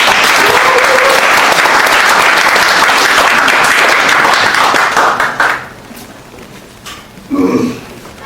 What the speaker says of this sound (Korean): 힘찬 박수로 다시 한번 환영했습니다